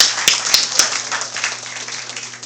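Another round of audience applause at an event at the AU Mission in the USA, a dense, steady wash of many hands clapping with a few sharp claps near the start, easing slightly toward the end.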